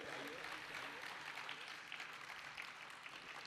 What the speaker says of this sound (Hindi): उनके सम्मान में तालियां बजनी चाहिए